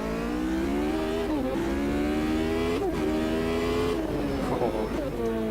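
A V8 race car in the Automobilista 2 racing game, heard from close by, holds a loud, continuous engine drone that rises and falls through repeated revs and gear changes, with talk over it.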